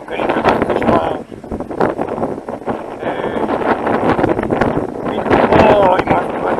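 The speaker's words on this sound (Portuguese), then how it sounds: "Está aqui um vento doido, mas está com calor." Gusty wind buffets the microphone with loud rumbling bursts while a person talks over it outdoors.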